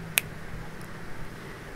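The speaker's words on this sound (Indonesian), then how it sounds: "bunyi jentikan jari" A single sharp finger snap rings out near the start, crisp and close, followed by quiet room tone.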